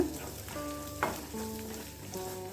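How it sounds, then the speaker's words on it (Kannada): Spice masala for a brinjal and fenugreek leaf palya fries in a pan with a soft, fairly quiet sizzle and occasional stirring scrapes, mixed with faint musical tones. "ಮಸಾಲೆ ಹಸಿ ವಾಸನೆ ಹೋಗುವವರೆಗೆ ಚೆನ್ನಾಗಿ ಫ್ರೈ ಮಾಡ್ಕೊಳ್ಳೋಣ"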